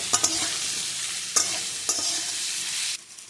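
Turmeric frying in hot oil in a pan, a loud bright sizzle punctuated by a few sharp spoon clacks, dropping off abruptly near the end.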